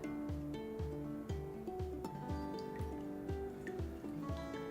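A compress pad soaked in cold water with essential oils is wrung out, giving a quiet series of small drips and soft squishes that fall at a fairly regular pace.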